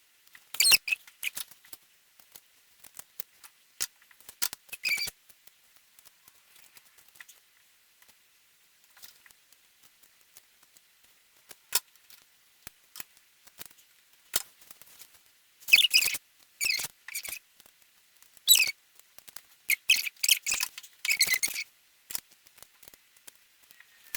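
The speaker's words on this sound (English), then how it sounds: "I have fabric scissors, so let me get those." Scissors snip through cloth in short, crisp bursts with quiet pauses between, close and soft, with no voices.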